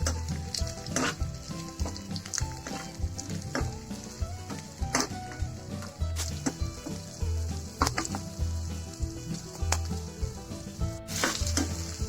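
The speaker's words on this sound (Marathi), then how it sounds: "हिरव्या मिरच्या सुद्धा चांगल्या प्रकारे तेलामध्ये तळून घ्यायच्या आहेत." Green chillies frying in hot oil in a pan for sabudana khichdi, a steady loud sizzle with frequent sharp spatters and crackles, occasional stirring clatter, no voices.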